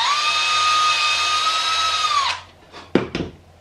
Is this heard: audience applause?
no